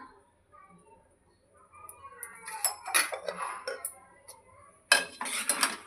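A spoon scrapes and clinks against a pan while garam masala is stirred into a paneer fry, with irregular metallic taps and scrapes that turn busier and louder midway, and a soft voice appears briefly.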